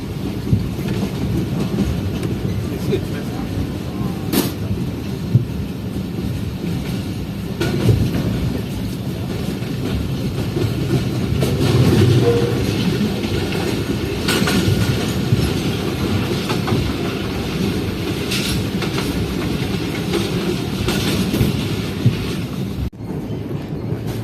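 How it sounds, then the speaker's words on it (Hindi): A Shalimar Express train rumbles steadily along the rails past Malir railway station, with a continuous low roar, faint rhythmic clatter and occasional metallic clicks, heard from inside an AC Standard carriage. "इस वक्त हमारी ट्रेन क्रॉस कर रही है मलीर रेलवे स्टेशन को"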